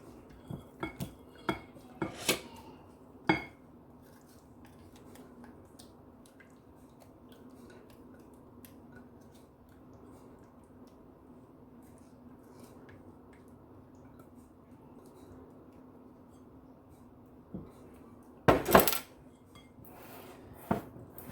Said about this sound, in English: we are going to combine our dry ingredients with our wet ingredients